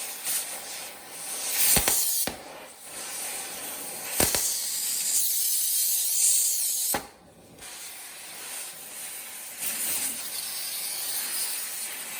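A torch flame roars in a steady, close hiss while heating a broken stud red hot, with brief sharp breaks and a short dip where the flame is moved or adjusted.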